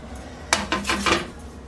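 Pounded jaggery and raisins mixed in a bowl with a metal spoon: a few quick clinks and scrapes against the bowl, close and clear, over a quiet background.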